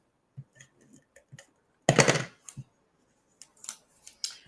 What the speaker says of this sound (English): I'm just going to take this and add my tape here.